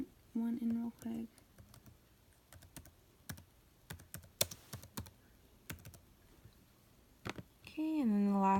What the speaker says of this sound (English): So I'm going to just type that one in real quick.